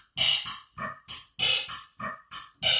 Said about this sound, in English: Added some reverb and here's our drum kit